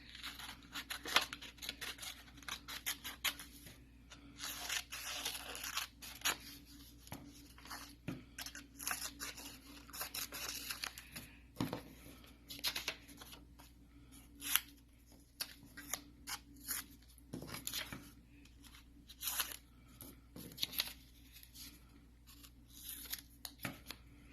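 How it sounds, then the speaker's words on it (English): Scissors snip steadily through paper along drawn lines for a children's Sabbath school craft, making close, crisp, repeated cuts in an uneven rhythm with brief pauses, no voices. "you're going to cut along all of those lines"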